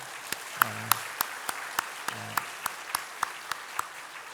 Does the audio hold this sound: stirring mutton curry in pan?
no